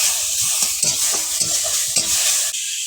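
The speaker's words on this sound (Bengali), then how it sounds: "আর নেড়ে চেড়ে নেব।" Shrimp frying with cucumber, tomato and green chili in a pan, stirred steadily, with a continuous close sizzle and repeated scraping strokes of the spoon against the pan.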